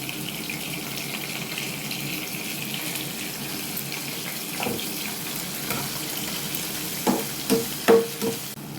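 Onions and curry leaves frying in a pan give a steady soft sizzle, with a few louder clinks and stirring knocks near the end.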